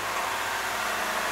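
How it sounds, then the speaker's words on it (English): Diesel engine running on waste vegetable oil, a steady droning hum with a broad hiss on top, continuous and even throughout with no talking. "It does have a slightly different sound to the engine."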